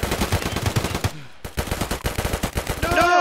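Rapid, close bursts of gunfire during a firefight in the shooter game Tarkov: Arena, with a brief gap near the middle and a ringing metallic tone at the end.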